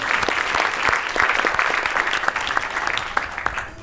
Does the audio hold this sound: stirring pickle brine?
no